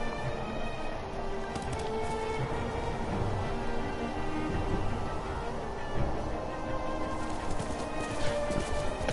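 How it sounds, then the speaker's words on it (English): Hoofbeats of a horse being ridden in the Ghost of Tsushima video game, a steady clip-clop rhythm running the whole time beneath an ambient wash of wind and birds. "riding a horse certainly beat the old way of travel"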